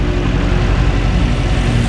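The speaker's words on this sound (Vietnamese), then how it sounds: "Hãy cùng nghe xem là cái tính động cơ của chiếc xe này nó sẽ mang lại cái sự phấn khích gì" A 2021 Mercedes-AMG G63 with its V8 biturbo engine running under an open hood, giving a steady, loud, low rumbling idle that holds constant throughout with no talking.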